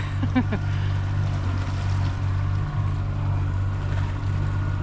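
MacGregor 26M sailboat motor sailing under engine with sails up, a steady low outboard drone and hum with water and wind wash, close and constant throughout.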